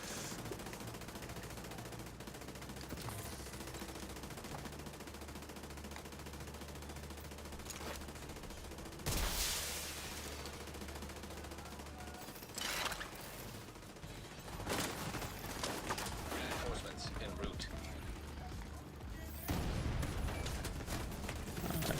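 Enemy turret fire in The Division 2, heard as bursts of automatic gunfire over a busy game soundscape, with louder volleys around the middle and at the end.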